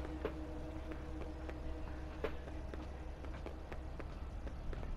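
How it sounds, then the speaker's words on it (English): Footsteps from the horror video game Five Nights at Freddy's Security Breach sound as faint, soft, irregular thuds off to one side, set over a quiet, steady electronic hum in a dark area. "I hear her footsteps over to my right."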